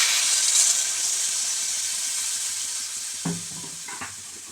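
Water going into a hot pan of frying poppy seed paste with potatoes and cauliflower, giving a bright, even hiss and sizzle close by, with a couple of soft utensil knocks near the end.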